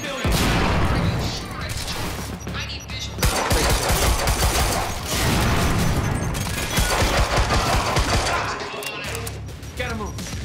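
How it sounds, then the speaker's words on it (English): Sustained bursts of automatic gunfire in the shooter Quantum Break, loud and near, rattling in long volleys with brief lulls and booming impacts, while a voice shouts over the chaos. "Suppressive fire!"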